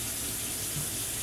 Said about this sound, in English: All you gotta do is just put 1 coconut water in there.